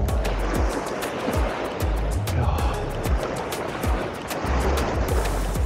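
Waves wash steadily onto a nearby beach at Otterndorf, a continuous broad rush of surf with low rumbling swells and no voices.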